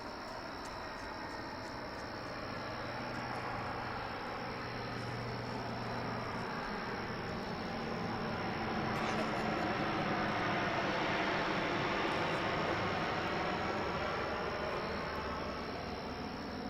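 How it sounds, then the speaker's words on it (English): A US Air Force C-130 passes overhead as a broad, steady engine roar that slowly builds and swells with a sweeping tone, heard alone from a moderate distance over a hurricane-damaged area. "Compliments of the United States Air Force C-130 is about to fly overhead."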